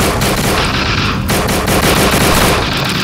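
Gunfire in the game No More Room in Hell, loud close bursts of rapid shots cracking in quick succession over three seconds, with a brief lull near one second and no talk.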